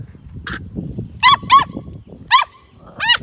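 A pet dog gives several short, high-pitched yelping barks and whimpers close by, in spaced bursts over a low murmur of background noise.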